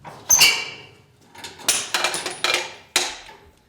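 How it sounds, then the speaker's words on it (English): Unlubricated garage door rollers squeaking and clunking against bent track during a roller install, several sharp squeals and rattling bursts in a row, close and fairly loud, no talking. "If you notice the squeaking of that roller,"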